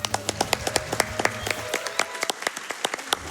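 Applause and clapping from an audience at a live speedrunning marathon event, a burst of sharp irregular claps that rises and fades over a few seconds, with no talk over it.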